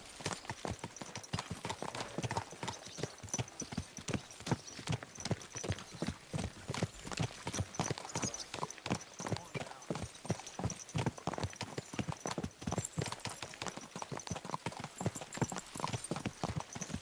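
Steady, brisk clip-clop of horse hooves in a video game, a continuous rhythmic trot of sharp knocks running throughout, fairly loud and close, with no talk.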